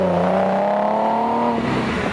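A Nissan 370Z with its VQ engine and Greddy EVOlution GT exhaust speeds along a road, a loud sustained droning exhaust note that climbs steadily in pitch, then briefly drops as the engine shifts.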